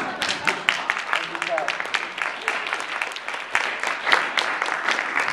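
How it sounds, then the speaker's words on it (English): Audience applause fills a campaign event for a Virginia state senate candidate, steady dense clapping that swells and holds across the whole stretch without pause. "You can applaud, I see."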